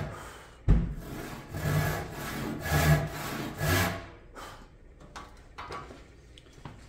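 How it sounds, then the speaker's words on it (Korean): A hand saw cuts through wood along a pencil line, each stroke light so the blade skims the wood. Several distinct rasping strokes come close and clear in an uneven rhythm, followed by quieter scraping and taps. "톱날이 나무를 스치듯이 지나가도록 그렇게 만들어줘요"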